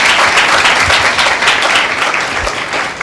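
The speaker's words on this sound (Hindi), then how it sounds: "क्या एक जोरदार ताली प्रभु यीशु मसीह के नाम को दें।" A church congregation applauds loudly, dense sustained clapping from many hands filling the room.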